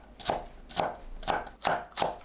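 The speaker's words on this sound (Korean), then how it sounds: "양파를 작게 썰어주세요." Knife chopping an onion into small pieces on a cutting board, five evenly spaced crisp chops, close and clear with no talking.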